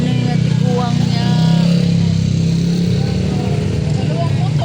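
Motorcycles pass in busy street traffic, a steady, loud engine drone that swells briefly and then settles, heard under people talking nearby.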